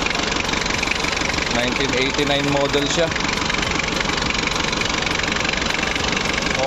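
A 1989 Nissan Power Eagle engine idles with a steady rough rumble and light knocking, loud and close, as someone speaks briefly over it.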